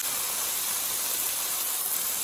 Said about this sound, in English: we're just going to put it into our pan and let it get a nice brown coating all around